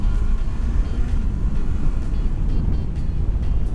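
A 2019 Honda CBR650R motorcycle engine droning steadily and loudly at speed on a wet road, a continuous rough roar with wind noise and no clear gear changes.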